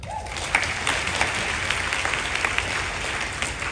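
Audience applause at a session of the Joint Collaborative Committees of Doctors of BC, a dense steady clapping from a crowd lasting the whole few seconds at moderate level.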